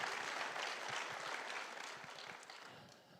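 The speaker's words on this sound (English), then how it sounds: "go ahead and applaud. This is good stuff to applaud." Dense, steady applause from a church congregation at a Unity service, a broad hiss of many clapping hands that gradually fades over a few seconds, with no voices standing out.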